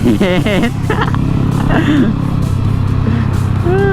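A car fitted with a loud aftermarket exhaust revs during a group street-driving trip, its engine rumble steady throughout but mostly buried under continuous excited talking.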